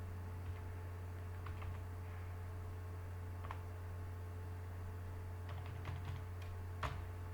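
A computer keyboard clicks in soft, scattered keystrokes while a PAN card number is entered, faint taps over a steady electrical hum.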